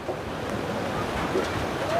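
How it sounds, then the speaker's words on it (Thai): Storm wind roars in a continuous, close buffeting rush as rain arrives over a village with tin roofing, loud and unbroken with no clear voices. "มาแล้วฝนมาแล้วนะ"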